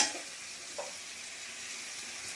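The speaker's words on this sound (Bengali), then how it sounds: "আর হচ্ছে পাঁপড় ভাজা," Papad frying in hot oil makes a faint, even sizzle with a brief crackle at the start and a small pop partway through, with no voices.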